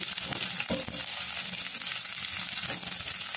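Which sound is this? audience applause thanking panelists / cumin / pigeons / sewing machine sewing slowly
cumin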